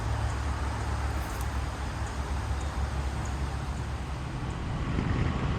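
A Triumph Bonneville T120 motorcycle is ridden on an open road, its steady engine drone blending with heavy wind rush against the microphone, continuous and even.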